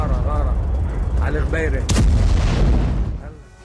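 Explosions from a bombardment in Dahiyeh, Beirut: a sharp blast near the middle rises out of a continuous rumbling din, with voices mixed in before the sound fades.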